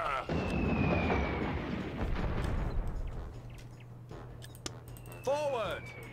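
Artillery fire in the battle game Warhammer Dark Omen: a dense, rumbling barrage of booms and bursts filling the opening seconds, easing into a low hum with a sharp blast near the end, while voices call out over the din.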